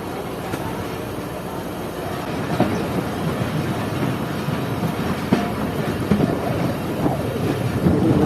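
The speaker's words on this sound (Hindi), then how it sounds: "जो 39 अब जाफर एक्सप्रेस है वो बगैर रुके ही जा रही है लूप लाइन से" The Jaffer Express passenger train running through a loop line without stopping, heard from on board a halted train as a loud, steady rumble with rhythmic wheel clatter and wind buffeting throughout.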